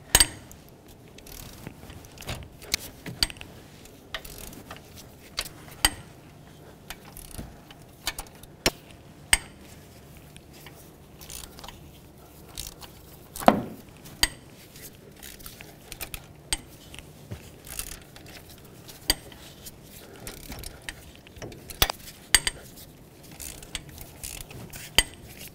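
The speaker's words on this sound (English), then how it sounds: "Now I'm gonna switch to my ratchet so I can take these out a little more" Ratchet clicks and sharp metallic cracks as head bolts are broken free on a 1997-2003 Ford F-150 5.4L two-valve engine, with irregular bursts of close, fairly quiet clatter spread throughout.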